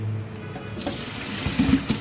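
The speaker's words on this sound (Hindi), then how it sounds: "अब इसका हम पानी ड्रेन आउट कर लेंगे" Water from boiled lasoda (lasooda) fruits drains out in a rushing pour, with a few louder gurgling splashes toward the end.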